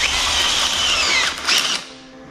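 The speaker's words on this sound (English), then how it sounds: "So drill it slowly." A drill bores slowly into a bushing on a VW T4 Syncro swivel hub, giving a steady high whine for nearly two seconds that briefly surges before cutting off, close and loud with no talking.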